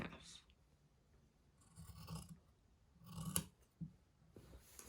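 Fabric for a T-shirt neckband is cut with scissors: quiet, close snips and blade rasps come in a few short bursts, with no talking.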